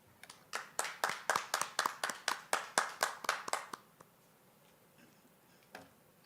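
Scattered applause at a 2020 Cornerstone Institute graduation ceremony: about a dozen slow, separate claps in a steady rhythm, fairly close, fading out after a few seconds into quiet room tone.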